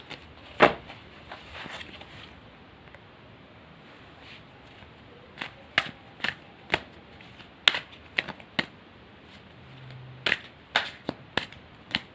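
Tarot cards being shuffled by hand up close, a quiet run of crisp riffles and sharp flicks, irregular and scattered, with no one talking.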